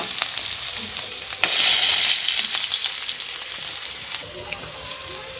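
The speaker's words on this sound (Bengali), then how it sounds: "আলুগুলো এখন ভাজা হবে প্রথমে।" Potatoes frying in hot oil give a steady, close sizzle that swells into a louder hiss after the first second and then settles into a constant crackle.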